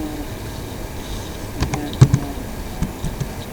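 A few light computer keyboard keystrokes click sparsely and unevenly while entering data into an Excel spreadsheet, faint against a steady low background hum.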